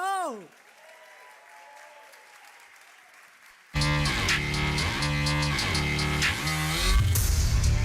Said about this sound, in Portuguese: Eu queria que vocês recebessem com uma salva de palmas nosso pastor André e o pastor Tassos Licurgo.